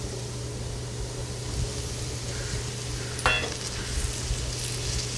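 Chopped tomato frying with browned onion in a pan for egg bhurji, a steady close sizzle with a brief sharper burst of spatter midway, no talking.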